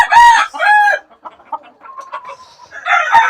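A large, colorful naked-neck rooster with a full crest, kept on a farm, clucks loudly up close in a few short bursts, then lets out a harsh crow at the end.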